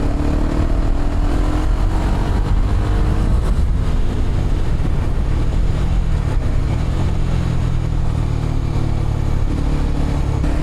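A Kawasaki Ninja 250 SL single-cylinder motorcycle engine hums steadily while being ridden, with wind rush and road noise over its continuous drone at a constant loud level, no voices.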